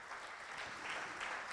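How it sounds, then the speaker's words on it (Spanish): Church congregation applauding during a Sunday service, a continuous, even patter of many hands clapping at a distance, faint and without voices. "yo quisiera que esta mañana los caballeros le dieran un aplauso a Dios"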